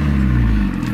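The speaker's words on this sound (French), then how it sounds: "C'est un échappement Monza." Family car fitted with a Monza exhaust idling close by, a steady loud low rumble with a slight rise in pitch, no voices.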